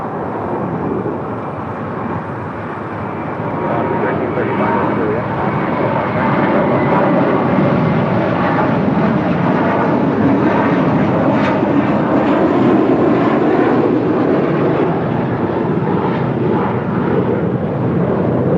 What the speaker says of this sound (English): departing to Newark with JetBlue Airways, Flight 1374, A321 in the First Mint livery